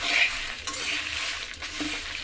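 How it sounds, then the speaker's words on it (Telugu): A quarter glass of rice dry-roasts in a pan for sambar powder while it is stirred constantly, giving a continuous close, dry rustling and scraping with faint clicks. "దీనిలోనే ఓ పావు గ్లాసు బియ్యం ఇవి బాగా వేయించుకోవాలన్నమాట"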